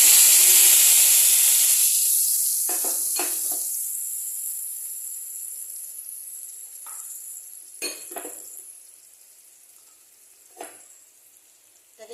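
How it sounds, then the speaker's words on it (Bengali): Cumin seeds and a bay leaf dropped into hot oil give a loud, bright hiss that fades steadily, followed by a few clinks of a spoon against the pan. "তেল গরম হয়ে গেছে, এখন আমি এখানে দিয়ে দেবো জিরা ফোড়ন আর এই তেজপাতা"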